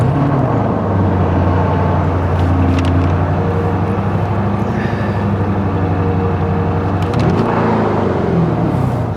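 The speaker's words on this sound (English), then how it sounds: "First cold start." Lamborghini Urus S engine at cold start, a loud, steady, deep rumbling idle that holds for several seconds before briefly swelling near the end, heard close and alone without talk.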